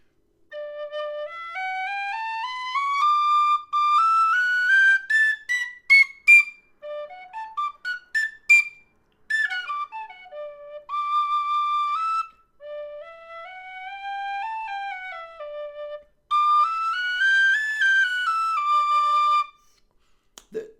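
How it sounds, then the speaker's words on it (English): A Feadog high D tin whistle plays a solo melody of clear, bright sustained notes and quick runs, close and fairly loud, with short pauses between phrases. "So here is, and I always say this incorrectly, a Feadog, Feadog."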